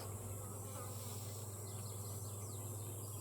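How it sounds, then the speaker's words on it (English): Honeybee swarm in a hive, a dense steady buzzing drone close by, continuous and even throughout, with occasional individual bees flying past. "this has been a really strong swarm that came in"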